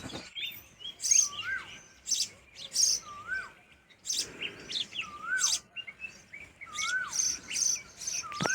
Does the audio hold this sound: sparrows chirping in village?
yes